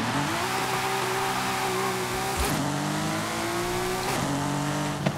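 A Porsche 997 911 Sport Classic doing a burnout in the video game Forza Horizon 5, its engine droning steadily at high revs with shifting pitch and tire noise throughout, loud and close.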